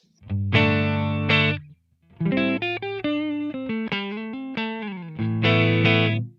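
Electric guitar played through a LEKATO Tank-G effects processor's amp model: strummed distorted chords, then a run of picked single notes, then chords again, loud and up close.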